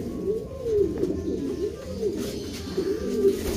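Batenburg pigeons give a steady, repeated rolling coo close by, each phrase swelling and falling in a low, throaty rhythm over faint background noise.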